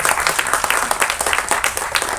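A crowd at a film music and trailer launch event claps loudly, the applause coming in uneven bursts and swells of many hands over about two seconds.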